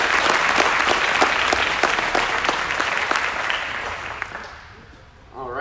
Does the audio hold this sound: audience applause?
yes